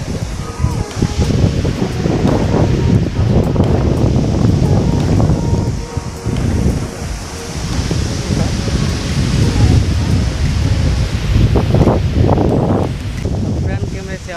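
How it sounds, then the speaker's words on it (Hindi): Strong wind buffets the microphone at Nandghat Dam in Chhattisgarh, a loud, continuous roaring rumble with gusty swells and rustling, while someone talks throughout. "हवा चल रहा है, मौसम भी जोरदार है,"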